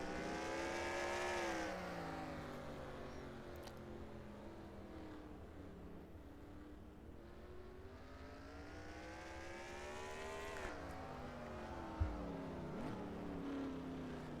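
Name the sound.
race cars braking and accelerating in racing video game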